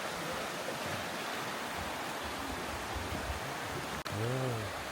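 A stream flows at Haew Narok waterfall in Khao Yai National Park, Thailand, as a steady, even rush of water. Near the end there is a short click and a brief voice.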